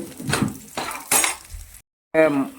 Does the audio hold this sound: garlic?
yes